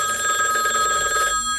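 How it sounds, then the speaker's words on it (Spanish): A telephone bell rings with a bright, continuous electronic trill, loud and close, cutting off abruptly just before the end with no voices over it. "Me parece que suena el teléfono."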